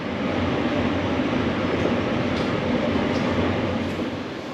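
A Stockholm metro train runs with a loud, steady, close rumble of wheels and carriage noise, continuous and unbroken, with no talking.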